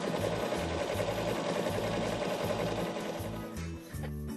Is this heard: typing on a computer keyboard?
no